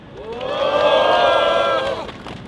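A crowd of union staff at an outdoor political press conference gives a loud, sustained collective shout and cheer lasting about two seconds, swelling and then fading.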